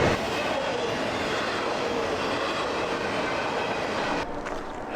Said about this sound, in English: Three trains in a row.